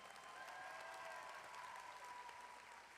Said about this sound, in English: One more round of applause for Jaden.